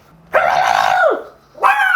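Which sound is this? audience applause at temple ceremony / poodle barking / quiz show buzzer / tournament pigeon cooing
poodle barking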